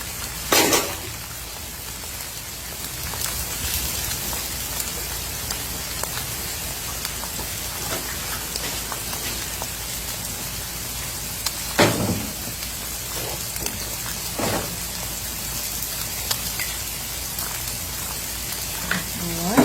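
Scrambled eggs fry in an oiled pan for fried rice, a steady quiet sizzle crackling throughout, with a few louder clatters and knocks from nearby kitchen work.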